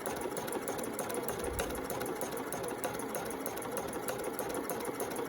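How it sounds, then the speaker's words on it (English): A domestic sewing machine stitches in an invisible zip, its motor whirring in a fast, even, continuous chatter close by with no pauses. "start stitching and do a couple of reverse stitches"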